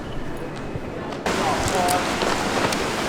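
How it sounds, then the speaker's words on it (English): Heavy pouring rain in Thailand, a dense steady hiss that jumps louder partway through, as if a door opened onto the downpour, with faint voices in the background. "And it's pouring. It's pouring rain."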